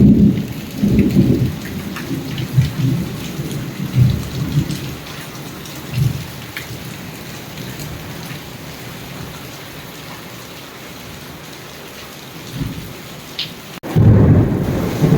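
Heavy rain pours down in a steady wash while thunder rolls in deep, booming bursts, loudest at the start and again at the end.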